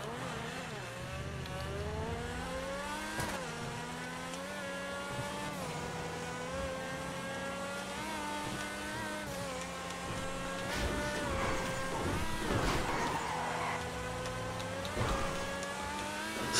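Car engine in GTA V online gameplay, a steady droning motor with rising and falling pitch as it accelerates and shifts through gears, continuous and close for the whole stretch with no talk.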